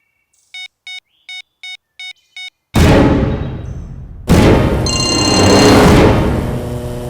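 A telephone bell rings in six short, evenly spaced bursts, clear and close, before a sudden loud wash of dramatic background music takes over.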